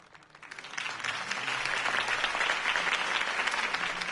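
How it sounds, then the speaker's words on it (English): Crowd applause in a Batman Telltale video game scene starts soft and swells within a second into steady, dense clapping that holds to the end. "If only Mr. Wayne, my campaign's largest backer, could have heard that applause"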